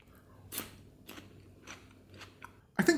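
Crisp crunching bites into a low-salt Slavic pickle: several sharp, close chewing crunches spaced through a quiet stretch, ending in one louder bite.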